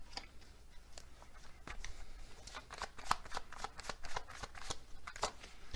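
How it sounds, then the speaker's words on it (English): Tarot cards are shuffled by hand in a steady run of crisp, close riffling flicks and taps, fairly quiet and without talk. "let's get some overall cards"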